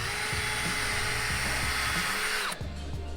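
A power drill bores a small hole for a screw while fitting a Maxton Design side splitter to a Lexus RC F: a steady, close, high-pitched whine that winds down and stops near the end, with no voices.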